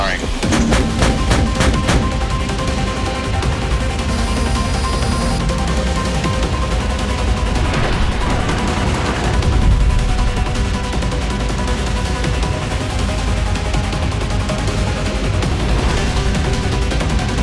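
Gunfire from a weapon verification firing at a target 3,000 metres away: a rapid string of sharp shots opens the sequence, then gives way to a loud, sustained rumbling roar.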